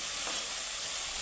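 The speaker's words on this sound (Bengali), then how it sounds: "দিয়ে মশলাটা আমি চাপা দিয়ে বেশ খানিকক্ষণ কষে নেবো" Masala paste with salt sizzling hard in oil while being fried for Bhola fish curry, a dense continuous hiss held close and steady for a brief moment, with no talk.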